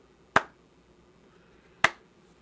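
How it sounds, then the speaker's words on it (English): Two slow, isolated sharp claps spaced over a second apart, crisp and close, with near silence between them. "Slow clap."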